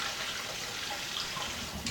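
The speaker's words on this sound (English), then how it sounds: "Running the water, squeezing it." A kitchen tap runs steadily while homemade butter is squeezed under the water, a constant hissing splash at close range with no talk.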